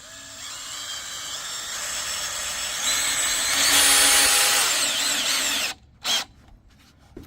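A power drill with a 5/16-inch bit bores into wood to mount a heavy-duty 4x4 three-way pergola corner bracket. Its sustained whine builds and peaks, cuts off, then gives one short final burst.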